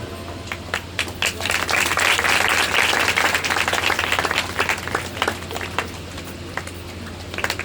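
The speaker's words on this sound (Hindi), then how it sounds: "बड़ी सुंदर सी ताली बजाई, जोरदार ताली बजाई" An audience claps loudly and steadily for a child at a devotional gathering, with dense applause swelling early and then thinning into scattered claps.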